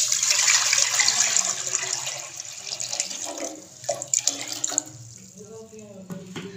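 Water pouring steadily into a karahi on a stove, a loud splashing rush that fades into quieter trickles and a few clinks.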